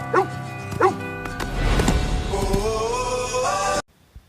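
A dog barks and yips twice near the start of a movie trailer scene for the 2017 film A Dog's Purpose, followed by a dense swell of music and sound, with no speech over it.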